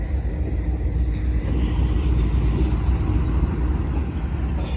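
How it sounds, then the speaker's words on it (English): A locomotive on railroad track gives a loud, steady low rumble that holds throughout with no breaks, heard close by. "What a beautiful locomotive"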